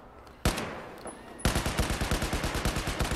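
Gunfire in Battlefield 4: a single sharp shot, a short pause, then a rapid automatic burst of roughly a dozen cracks in quick even rhythm, loud and close.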